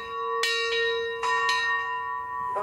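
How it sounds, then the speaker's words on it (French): A historic church bell rings at the chapel of Notre-Dame de Septembre in Murat, France, with several bright strikes and a long ringing hum between them, fairly close and with no talk. "Donc notre cloche qui vient d'être classée monument historique."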